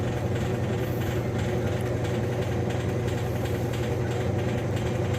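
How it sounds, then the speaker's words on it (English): A Roper heavy-duty, extra-large-capacity two-speed washing machine runs with a steady low motor drone and a dense churning rumble, constant and even from start to finish, with no talking. "Man, this washer is just"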